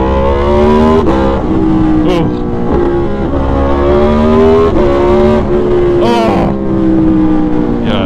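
Aprilia Tuono V4 naked motorcycle revving loudly nearby beside a guardrail, several sharp blips rising and falling in pitch with a throaty, layered engine note, while a rider exclaims briefly.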